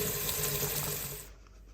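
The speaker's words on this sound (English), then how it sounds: "We're using our filter tap there." Water running from a filter tap into a kitchen sink, a close, steady splashing stream lasting about a second before it shuts off.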